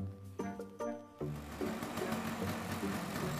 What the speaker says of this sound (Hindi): सुन देख तेरे पापा की स्कूटर की आवाज।